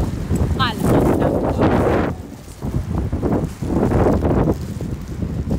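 Gusty wind roars across the microphone in broad rushing bursts, with people talking through it outdoors.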